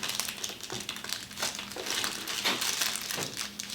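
Sheet of paper being folded for a rainbow origami model, with close, soft crinkling and crisp creasing rustles in irregular bursts.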